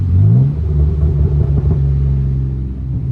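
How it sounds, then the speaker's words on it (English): Loud car engine rumbling and revving up close, with a few sharp crackling pops from the exhaust as the revs drop during downshifts. "you can hear the pops off the exhaust when I downshift"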